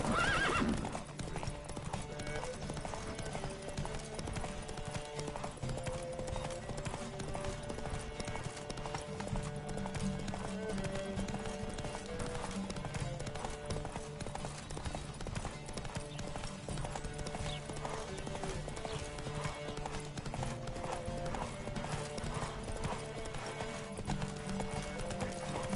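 Horse hooves gallop in a steady, rapid clip-clop throughout a Witcher 3 horse race, with occasional whinnies over continuous game music.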